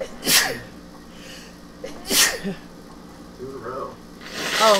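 Two sharp sneezes in a row burst out close by, a couple of seconds apart, followed by brief talking and then the start of another sharp burst at the end.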